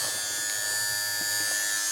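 A Philips fabric shaver runs steadily with a continuous electric buzz, close and unbroken, with faint rustles over its constant hum.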